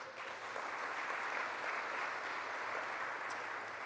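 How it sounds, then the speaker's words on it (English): Applause at a community announcement in Buffalo with the New York governor present, a steady moderate wash of clapping from a crowd running unbroken for about four seconds, no talk over it. "That deserves a round of applause, period."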